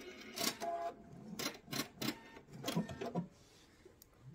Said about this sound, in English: I'm going to go in reverse about 3-4 stitches just to secure the stitches